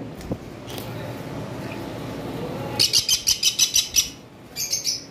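A pair of blue conures calls in a burst of sharp, rapid shrieks, about eight in a quick series and then a few more after a short pause, loud over a steady background hum.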